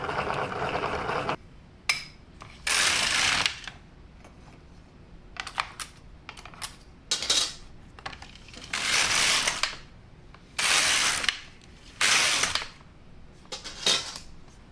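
LK-150 knitting machine carriage knitting Walmart cotton yarn, repeated bursts of rattling, clacking passes of a few seconds each separated by quieter gaps, close and alone.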